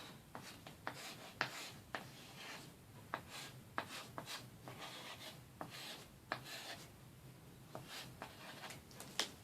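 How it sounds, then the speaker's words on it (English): Marker or pen scratching across a hanging DIY fall message board, a steady run of soft rubbing strokes broken by sharp little taps as each letter is formed, close and fairly quiet. "And then you can just write your little message inside wherever you want"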